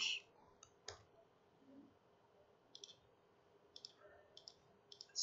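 Mouse clicks on a computer submit button, a few sharp isolated clicks spaced irregularly, faint and close in a quiet room.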